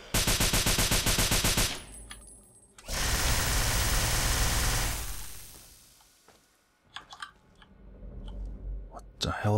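In Fallout 3, a turret or minigun fires rapid bursts of loud, dense game gunfire in long stretches with short gaps, followed by scattered clicks and smaller shots.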